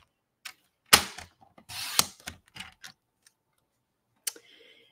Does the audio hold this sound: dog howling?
no